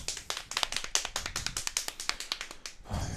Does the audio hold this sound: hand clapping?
yes